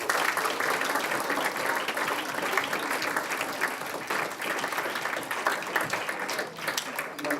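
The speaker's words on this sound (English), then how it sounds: "So can I give a round of applause, please, to Ben?" A school audience in Carmarthen claps for Ben in a continuous, even round of applause lasting several seconds, full and close with no pause.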